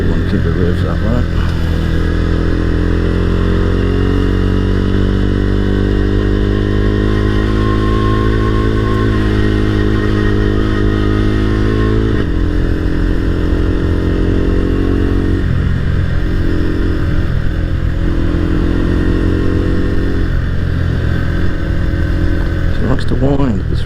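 A motorcycle engine holds high revs on a winding country road, a loud continuous drone with shifting pitch as it climbs and eases, with a brief gear-change dip midway and talk over it.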